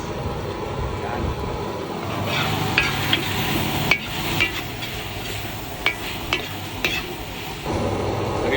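Squid tossed into a pan of frying bam-i noodles cooked over a used-oil stove, giving a steady sizzle with scraping stir strokes and sharp metallic clanks of a utensil against the pan.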